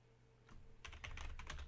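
A computer keyboard clatters as a short command is typed for a text adventure game, a quick burst of close key taps that starts after a faint lead-in and continues to the end.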